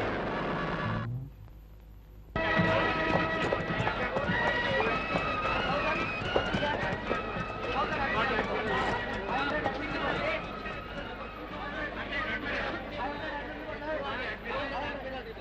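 Horses run at a race meeting in a Telugu film, with fast, rhythmic hoofbeats mixed into a busy crowd murmur and nearby talking, after a brief quiet gap at the start.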